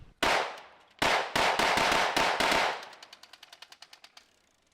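A firearm on a ranch fires a loud burst of gunshots: two sharp reports, then a rapid string of blasts with a ringing echo, trailing off into a quick run of faint clicks.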